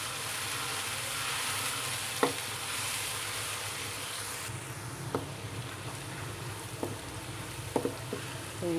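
Ginger garlic paste frying in a pan, a steady soft sizzle throughout with a few brief clicks of stirring, no voices.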